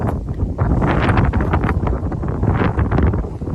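Strong wind buffets the microphone outdoors at the far north end of a village during a treasure hunt, loud rumbling gusts that rise and fall continuously.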